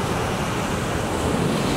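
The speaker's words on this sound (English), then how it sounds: "The waves over here are so big." Big ocean waves at a Hawaii beach roar as a constant, loud wash of surf, with some wind rumble and no voices.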